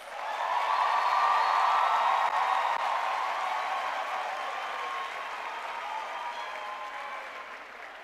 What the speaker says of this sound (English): Let's give all of our graduates a hand of applause.